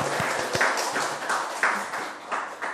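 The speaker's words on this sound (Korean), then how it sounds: "영예롭게 떠나신 우리 김용환 행정지원국장님 위해 다시 한번 큰 박수 한번 부탁드리겠습니다." Applause for a departing administrative support director at a city council education committee meeting forms a soft, diffuse patter of many hands, moderately loud and fairly steady for a few seconds.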